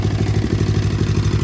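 A Snapper lawn mower engine idles close by with a steady, rapid, even chug throughout, loud and alone.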